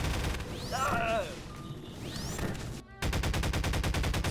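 Alien guns firing in Garry's Mod: quick bursts of synthetic shots and sweeping zaps, then a dense, rapid stream of repeated blasts at the end, loud and close, with a voice briefly mixed in.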